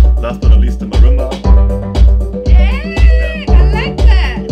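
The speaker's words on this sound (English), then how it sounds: "last but not least, the marimba." Marimba in a produced track with piano, drums and congas, playing bright repeated notes over strong pulsing bass hits in a busy, loud mix, with no speech.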